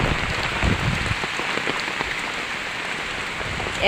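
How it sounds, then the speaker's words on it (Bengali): Rain falls steadily in a dense, even patter, with occasional closer drops tapping a surface; no voices. "একভাবে বৃষ্টি হয়েই যাচ্ছে"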